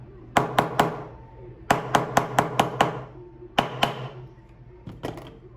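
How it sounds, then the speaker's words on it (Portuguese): A metal tool lightly taps the top band of a handmade silver ring with friezes, forcing it into place: sharp ringing clicks in quick clusters, several taps with short pauses between, close and crisp without talking. "E aí vou dar uma pequena batida aqui em cima, ó. Forçando o aro de cima a encaixar."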